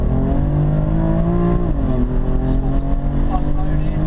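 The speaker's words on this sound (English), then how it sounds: "Let me just blip it down, you can hear some sounds" A BMW M4 Competition engine is blipped on downshifts with traction control off, making a loud, continuous droning note whose pitch dips and shifts, heard close up from inside the car.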